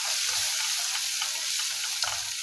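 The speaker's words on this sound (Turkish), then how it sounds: "Şimdi bunların hepsini birlikte sos kıvamı alana kadar kavuruyorum" Bean stew with meat and tomato paste sautéing into a sauce, a loud, close, continuous sizzle with soft stirring scrapes across a couple of seconds.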